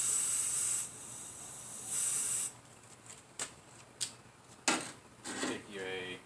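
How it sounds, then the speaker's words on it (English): A spray paint can sprays into its own cap while a 1997 Chevy Tahoe snorkel is installed, giving two close, loud hissing bursts, followed by softer rustling and handling sounds. "go ahead and spray it in your cap."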